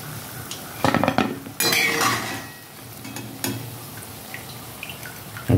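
Fried pakoras lifted out of hot oil in a pan with a metal utensil: scraping and clanking strokes against the pan over a soft background sizzle, with a louder clatter near the end.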